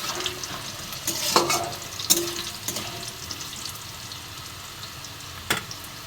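Potatoes frying in a pan for a vegetarian bottle-gourd greens dish, with a steady low sizzle broken by several sharp scraping stirs of a spatula, close and moderately quiet, with no talk.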